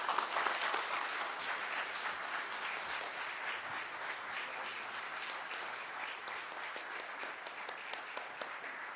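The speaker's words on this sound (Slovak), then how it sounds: "Privítajme prosím potleskom Petru Hammerlík." Sustained audience applause at an award ceremony honoring Slovaks working abroad, dense steady clapping from a full room lasting several seconds without talk.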